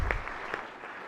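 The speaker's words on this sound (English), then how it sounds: "please give them a round of applause" Brief burst of steady applause from a crowd on a state Senate floor during a session, even and moderately faint, filling the moment without speech.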